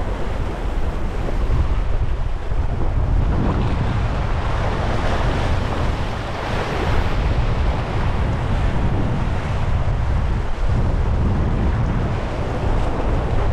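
Ocean waves crash and surge against a rocky shore in a continuous loud roar, with heavy wind buffeting the microphone throughout.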